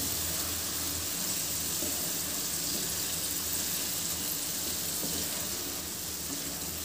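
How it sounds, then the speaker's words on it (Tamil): Cauliflower frying in a spiced pan as it is stirred, a continuous hiss and sizzle with faint scraping underneath and no voices, the sound steady throughout. "நம்ம அடுத்ததாக காலிஃப்ளவரை சேர்த்துக்கலாம். சேர்த்துட்டு நல்லா கலந்து விட்டுருங்க."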